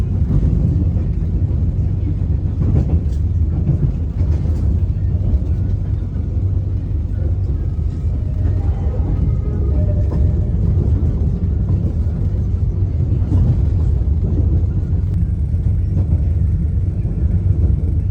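The KA Cikuray economy premium train of PT Kereta Api Indonesia gives off a steady, loud low rumble as it rides toward Garut in the rain, with faint clatter and no clear talk.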